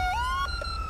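A police car siren in GTA 5 with the LSPDFR mod wails loudly at close range, a tone that rises and then holds before a short yelp near the end, with no voices.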